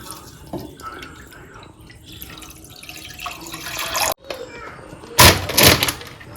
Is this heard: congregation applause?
no